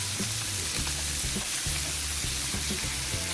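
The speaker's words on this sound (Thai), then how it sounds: "ผัดจนกระทั่งเนื้อหมูแล้วก็กุ้ง สุกนะคะ" Pork and shrimp stir-frying in a pan give a steady hiss of sizzling oil, with a utensil scraping and tapping the pan in a regular rhythm, close up.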